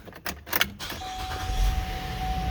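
Car engine cranked and fired up after a few jangly clicks, settling into a low steady idle hum with a faint whine, heard close and fairly quiet.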